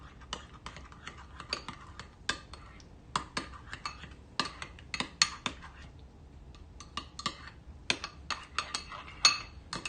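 Sauce with lemon juice being mixed in a bowl gives quiet, irregular clinks and scrapes of a utensil against the dish, spread across the whole stretch.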